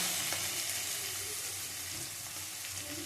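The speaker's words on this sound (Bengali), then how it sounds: "সব দিয়ে একসাথে ভেজে নিচ্ছি।" Onion, capsicum and chilli frying together in a pan give a steady, close sizzle that holds at an even level throughout, with faint stirring and no voices.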